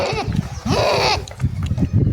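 A goat bitten by a dog cries out in loud, strained bleats close by, mixed with rustling, scuffling and background voices.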